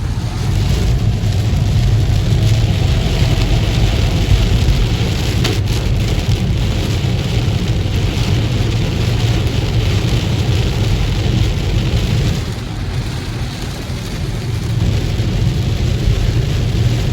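Steady heavy rain drums on a car while driving on State Highway 121 toward DFW, a loud constant wash of droplets and road noise with no talking.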